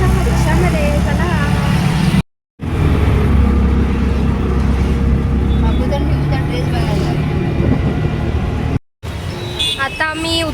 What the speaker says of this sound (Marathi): आम्ही बसलोय आता रिक्षामध्ये